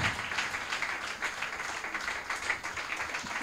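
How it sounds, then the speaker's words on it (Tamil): A church congregation at an anniversary dedication service claps for a family, a fairly soft, continuous crowd of hands clapping with a slightly uneven rhythm, heard from a short distance in a reverberant room. "கைத்தட்டுங்களா அந்த குடும்பத்திற்காக"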